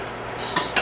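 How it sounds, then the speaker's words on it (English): Brief stirring of a cream cheese mixture for pecan pie, with two quick utensil scrapes and clinks against a bowl over a faint background hiss. "So stir the beginning cream cheese mixture up"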